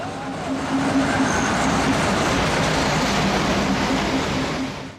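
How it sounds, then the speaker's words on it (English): A train pulls in on the Gulbene–Alūksne narrow-gauge railway in Latvia with a steady, close rumble and rolling rail noise that holds for the full five seconds, then begins to fade. "Here comes the afternoon train."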